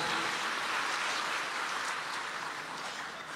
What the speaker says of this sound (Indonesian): kita tepuk tangan untuk yang berani tampil ke depan